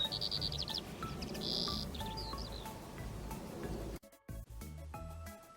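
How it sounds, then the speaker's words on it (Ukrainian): A skylark sings in short bursts of thin, high trills and chirps over a constant hiss of background noise, fairly close, before the recording cuts to different, quieter sounds near the end. "Жайворонок це єдиний птах, що співає високо у небі."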